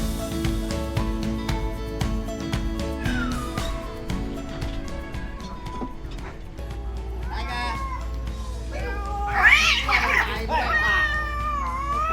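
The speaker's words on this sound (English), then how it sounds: "It's a literal cat fight happening behind me." Loud yowling and screeching from cats in a scuffle outdoors on Pulau Ubin island, Singapore, rising into harsh wails near the end, heard over rustling background noise.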